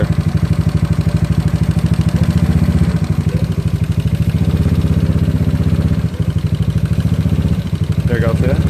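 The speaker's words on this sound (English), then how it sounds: "The more you rave it up, of course, the engine goes higher." A GY6 scooter engine fitted with an OKO PWK 30mm carburetor runs loud and close in a steady, throbbing clatter, holding a fairly even pace with slight dips, as if idling just above rest.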